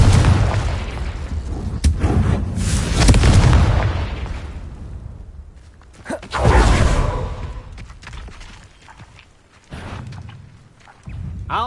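Explosive Confringo spell blasts in Hogwarts Legacy: a run of heavy booms and bursts at varying strength, one large blast early, then a second strong hit around the middle and a smaller one near the end, with whooshing tails between.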